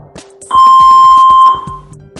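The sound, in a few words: defibrillator power-on beep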